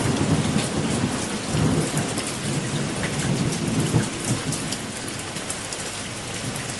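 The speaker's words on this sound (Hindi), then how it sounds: "बरसात तेज हो गई है" Heavy rain pouring down in a dense, continuous hiss that stays loud and steady throughout, with no voices over it.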